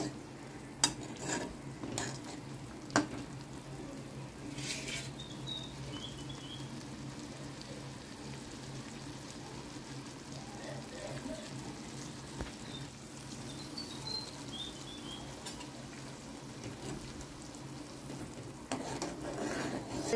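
Maharashtrian green chickpea and jujube bhaji cooks in a pan, with faint scraping and stirring, soft metallic clinks and a low sizzle underneath.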